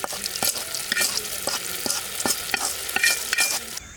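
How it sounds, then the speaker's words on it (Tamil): Onion and curry leaf tempering hitting a pot of sambar in a village kitchen, a bright crackling sizzle with sharp pops and stirring scrapes throughout, close and steady before cutting off at the end. "தாளிச்சதை இப்போ சாம்பாரில் சேர்த்துப்போம்"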